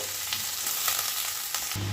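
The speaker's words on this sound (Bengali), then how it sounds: "বেশি ভাজবো না হালকা করে এটা একটু ভেজে নেবো" Cabbage fries lightly in a pan with a continuous close sizzle, broken by occasional stirring clicks and a shift in tone near the end.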